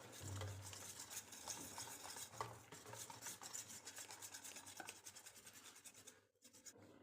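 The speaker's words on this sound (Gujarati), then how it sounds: "ચણાના લોટને દહીં સાથે આ રીતે વિસ્કરની મદદથી" Gram flour is whisked into yogurt with a whisk, a quiet rapid scraping and tapping against the bowl that runs continuously close up, then stops abruptly near the end, with no talk.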